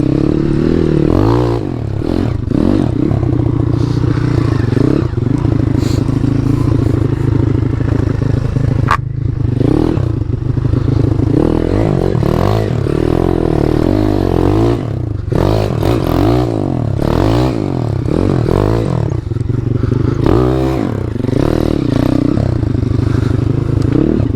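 Jawa KTM motorcycle fitted with an old YX 140 engine being ridden, its engine droning loud and close the whole time with repeated revving swells, rattles and scraping clatter, no talk.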